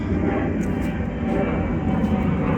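A plane flies overhead on its landing approach, heard from a garden beneath the flight path as a steady, fairly loud broadband roar that holds constant throughout with no talking.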